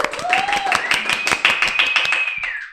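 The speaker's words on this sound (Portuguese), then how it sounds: "Recebam com muito carinho a doutora Adriana, uma salva de palmas" A studio audience gives a short burst of applause for a podcast guest, rapid hand claps close to the microphone with a bright tone sliding through them.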